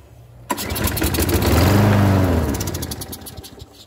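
A Troy Bilt 675 series lawnmower engine pulled into life with a sharp start, rising to a loud, close roar that swells and then eases back toward a rough idle, with no talking.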